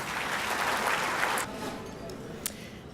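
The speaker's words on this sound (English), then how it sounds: "let's give all of our cities a round of applause." A conference audience applauding cities at an annual municipal awards event: a broad, moderately faint wash of clapping that thins out about halfway through, leaving scattered claps and room noise.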